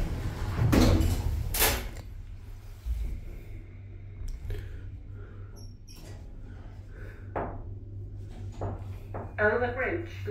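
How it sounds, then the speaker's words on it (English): A 2000 Cotswold passenger lift at Dewsbury station platform 1: its doors close with soft knocks and thuds, then the car moves off with a low hum, while a recorded voice announcement plays over it. "Stand clear, doors closing."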